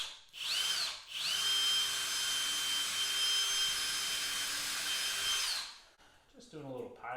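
A power drill whines close by as it bores pilot holes for a shop light in a garage, one short burst followed by a longer steady run of about four seconds, trailing off into quiet rustling and a brief voice.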